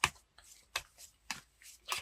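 Tarot cards shuffled by hand in a quiet room, heard as a series of short, crisp riffling bursts evenly spaced about half a second apart, close and soft, with no talking.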